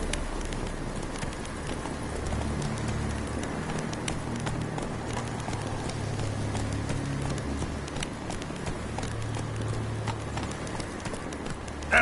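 Geralt's horse Roach gallops in The Witcher 3, a steady rhythmic drumming of hoofbeats that runs unbroken and fairly close throughout, with faint background ambience.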